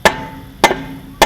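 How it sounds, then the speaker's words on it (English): Three sharp, evenly spaced metallic hammer blows ring out close by as a hammer strikes an axle hub on a Toyota 100 Series rear differential to free the cones. "you actually need to give it a decent hit with a hammer without hitting any of these studs"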